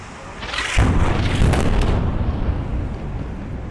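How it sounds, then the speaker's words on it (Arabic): Israeli airstrike bringing down the Al-Shorouk tower in Gaza, a loud, deep rumbling blast that swells suddenly and rolls on for several seconds as the building collapses, heard from a distance. "قصف إسرائيلي في قطاع غزة لبرج الشروق"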